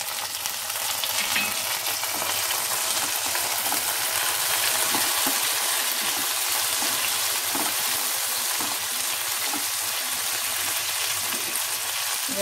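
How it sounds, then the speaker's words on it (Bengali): Tomato sizzles loudly in a pan of fried onions, a dense, steady crackle and hiss that runs unbroken throughout with no talking. "পেঁয়াজটা ভাজা হয়ে গেছে, এবার আমি টমেটোটা দিয়ে দিচ্ছি"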